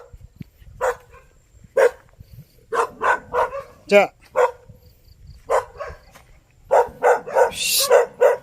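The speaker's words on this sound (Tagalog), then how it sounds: "Yan guys, kita naman ninyo may aso pa din." A dog on a farm in San Pascual, Batangas barks repeatedly at close range, with sharp, irregular yaps in loose bursts, a whiny yelp partway through and a quick cluster near the end, while a person speaks briefly.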